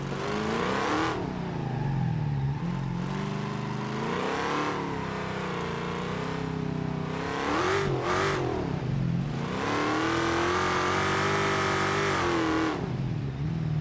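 A car engine in BeamNG revs high and holds near 6,000 RPM, a loud, continuous harmonic whine that rises and falls in pitch with brief surges and dips.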